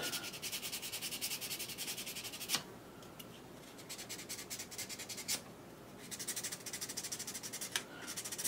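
Sanding stick rubbed back and forth over the end of a plastic blaster kit part, a steady close scratchy rasp in repeated strokes with a couple of short pauses.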